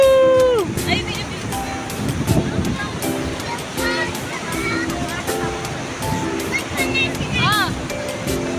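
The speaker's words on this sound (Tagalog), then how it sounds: "Lakas ng alon!" Strong ocean surf rolls and crashes on the shore at San Felipe, Zambales, a steady roar under excited shouts and chatter from people nearby.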